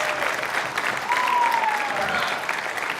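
A crowd at a women's pool championship semifinal applauds after a shot is pocketed, with steady clapping throughout and faint voices mixed underneath.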